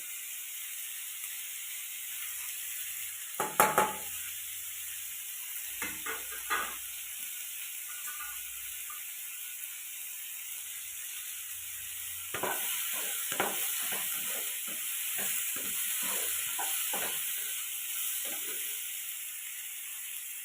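Vegetables sautéing in a pan with turmeric and chili powder, a soft steady sizzle with occasional stirring scrapes and clinks, faint and close.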